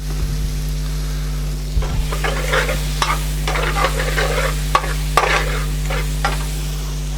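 Oil sizzles and crackles steadily in a pan while a balti is cooked, with a constant frying hiss broken by occasional louder pops and stirring scrapes, close and continuous with no talking.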